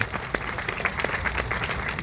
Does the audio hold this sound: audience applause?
yes